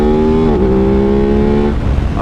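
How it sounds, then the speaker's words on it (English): A motorbike with a standard exhaust system revving nearby, a loud droning engine note holding steady then dipping and rising before trailing off, alone without speech. "what a beautiful noise this motorbike makes"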